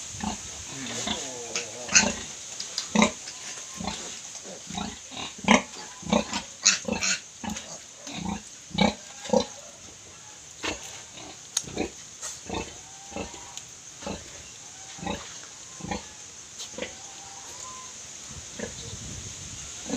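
A sow and her large litter of piglets on a farm grunt and squeal in frequent short, irregular bursts, close by. A person talks intermittently among the animal noises.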